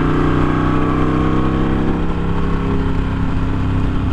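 A Harley-Davidson Sportster Iron 883 motorcycle engine rumbles loud and steady beneath a bridge, its deep continuous drone echoing close with no talk.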